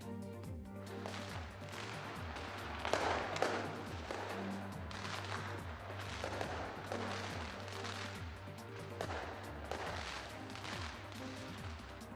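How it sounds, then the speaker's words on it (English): New Year fireworks display in New Zealand, a steady barrage of repeated bangs and crackling bursts at a regular rhythm, heard from a distance and fairly faint, with no speech over them. "New Zealand rings the New Year with massive firework display."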